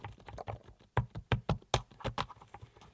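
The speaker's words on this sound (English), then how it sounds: "As you listen to the keys typing," Quiet typing on a rechargeable wireless RGB backlit full-size keyboard up close, a quick irregular patter of soft key clicks with no talking.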